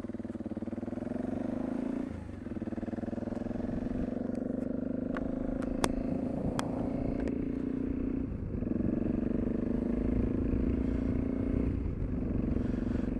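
A BMW G 650 GS single-cylinder motorcycle drones steadily while riding on the road, close and continuous with wind rush, brief dips in engine note as it shifts, and occasional clicks and clatter.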